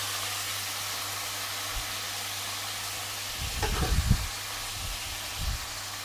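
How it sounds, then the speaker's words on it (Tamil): Mustard seeds splutter in hot oil for sambar under a steady background hiss, with a short cluster of popping crackles midway and a few fainter pops after, close by and without talk. "கடுகு நல்லா பொரிஞ்சிடுச்சு."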